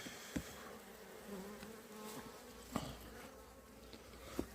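Honeybees buzzing around an open hive with brood frames, a steady soft drone of many insects close by, with a few sharp faint knocks and clicks scattered through.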